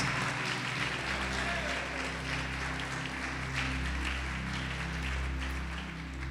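A church congregation applauds in praise, a broad, continuous wash of clapping that holds steady, with a low background hum underneath.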